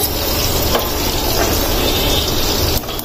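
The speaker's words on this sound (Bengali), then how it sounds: "যে পটল ভাজা হবে আজকে, পটলটা বসিয়ে দিয়েছি।" Steady, dense sizzling of pointed gourd frying in a pan, loud and close, continuous for the whole stretch with faint scraping now and then.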